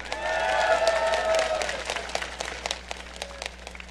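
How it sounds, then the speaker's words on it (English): Crowd applause fills a large arena at the 2012 League of Legends World Championship group stage, a dense, loud wash of clapping and cheering that swells early and then thins into scattered claps. "And rounding out the 5-man team, AD carry, give it up for Prey!"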